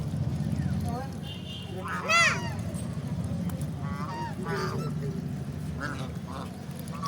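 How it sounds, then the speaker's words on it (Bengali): Eight ducks gather by a pond to be hand-fed puffed rice, letting out several loud honking quacks near at hand over a low background hum while people talk. "মাছগুলো নিচে আছে আর এখানে হাঁসগুলো চলে এসছে,"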